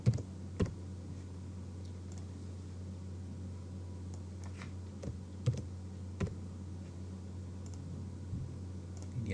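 A few scattered key clicks on a computer keyboard while a point name is typed, sparse and fairly close over a steady low hum with no talking.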